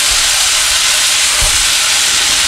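Long zucchini noodles simmering in a hot pan, a loud, continuous broadband hiss of steam and sizzle that stays constant throughout with no voices.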